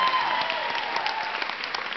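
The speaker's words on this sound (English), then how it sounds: "Let's hear a big round of applause for them" A conference audience breaks into loud, dense applause, many hands clapping in a steady wash that carries on throughout without any voices over it.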